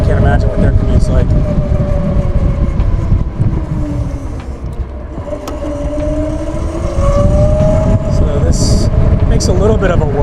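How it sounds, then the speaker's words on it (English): A CAKE Ösa electric motorbike with belt drive rides along, giving a loud, steady whirring drone with rising and falling tonal whine over heavy wind rumble, while a person talks throughout. "little bit of a whirl. It's got the belt drive, so it's a little quieter than the chain drive"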